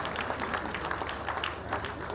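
Applause from the audience at a political party dinner for the NDC, a steady dense patter of clapping lasting throughout, moderately loud and fairly close, with faint crowd murmur underneath.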